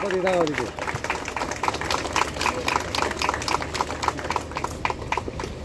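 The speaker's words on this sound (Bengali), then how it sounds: "এটা জোরে করতালি হয়ে যাক" A crowd claps in a sustained burst of applause, brisk and fairly even, with a voice speaking at the start, during a flower-presentation honour at a police-organised Women's Day blood donation camp.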